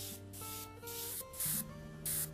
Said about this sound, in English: is just beginning to blend a little bit with my airbrush and get the colors